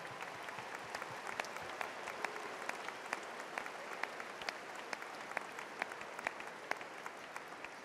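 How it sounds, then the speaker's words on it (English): Sustained applause from a large commencement audience honoring the Texas Tech faculty as they stand, a steady dense wash of hand clapping with a few sharper individual claps, moderately distant and continuous for the whole span. "let's give them a round of applause"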